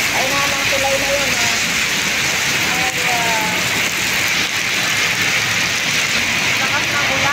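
Heavy rain pours steadily and loudly as a dense, unbroken hiss close by, with faint voices and a low rumble underneath.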